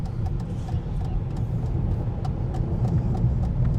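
A 2025 Tesla Model 3 Highland drives over a bump on a Van Nuys street, giving a steady low road and tyre rumble with a few faint clicks and thumps and no distinct jolt.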